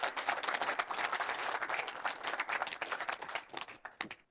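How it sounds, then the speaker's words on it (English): Conference audience applauding panellists at a security industry conference, a full room of steady, dense clapping that tapers off over a few seconds. "A round of applause, please, for our panellists."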